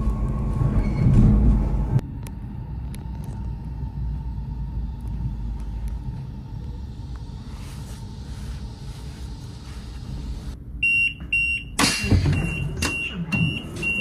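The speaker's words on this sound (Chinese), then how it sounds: "这是我乘坐的853次" Fuxing high-speed train G853 from Wuhan to Lanzhou West pulling into Huashan North station, a low rolling rumble easing down as it slows, followed by door chimes and bustle near the end.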